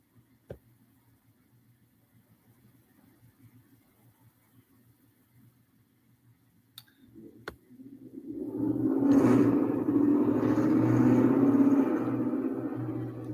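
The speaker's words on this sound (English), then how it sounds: "It's a mufflerless straight pipe truck is what it sounds like." A mufflerless straight-pipe truck engine roars in at about 8 seconds, building into a loud, sustained rumble that stays strong to the end after a quiet stretch with a faint low hum.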